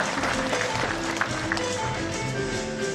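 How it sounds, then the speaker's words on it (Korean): Applause from the audience at a book launch event in Yeosu, a steady, even patter of many hands at moderate loudness that continues without a break. "여러분 박수 한번 주시기 바랍니다"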